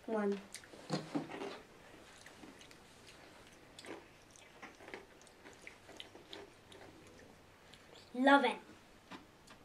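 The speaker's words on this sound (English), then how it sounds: "Now I'm going to try the Caramel Crunch cereal." Girl Scouts Caramel Crunch cereal is eaten close to the mic, giving crisp crunching bites and softer chewing in irregular bursts. Quieter mouth noises fill the gaps, and a final loud crunch comes near the end.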